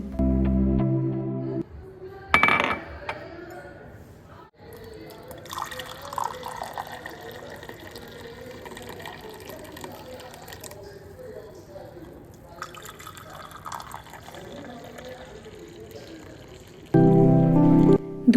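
Milk tea is strained and poured into cups in a home kitchen. Intermittent trickles and drips run under ongoing talk, with a few sharper clinks and knocks at the start and end.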